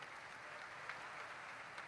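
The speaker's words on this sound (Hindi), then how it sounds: "एक बार इनको ताली बजाकर धन्यवाद दो।" An audience applauds to thank journalists at a religious gathering, a steady, faint wash of many hands clapping heard from a distance.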